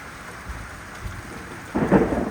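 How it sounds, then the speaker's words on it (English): Heavy rain pours in the Corsican wilderness while thunder rumbles, swelling louder near the end, a thick wet roar with no one speaking. "It's raining so much."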